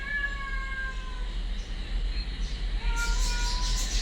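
A cat meows repeatedly in long, drawn-out cries, close by, over a steady low hum.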